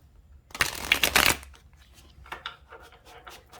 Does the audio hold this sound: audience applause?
no